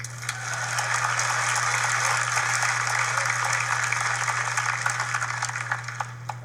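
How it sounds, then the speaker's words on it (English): Steady, dense applause from an audience at a Samsung Galaxy Note 9 launch event holds for several seconds over a constant low hum, then tapers slightly at the end. "You can clap."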